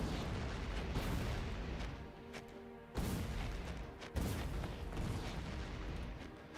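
Grenades exploding in the Factorio video game, Space Exploration mod: a dense, rumbling run of booms with sharp fresh blasts at about three and four seconds, steady and fairly loud throughout.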